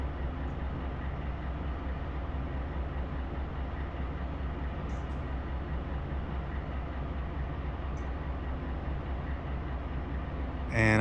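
A freight container train in Run 8 Train Simulator picking up speed from Barstow, a steady low diesel rumble and rolling drone that holds even and unbroken for the whole stretch.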